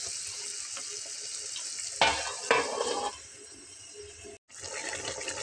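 Okra posto simmering under a lid in a covered pan, giving a steady close hiss and sizzle, with a couple of brief clatters partway through and a momentary drop in the sound near the end.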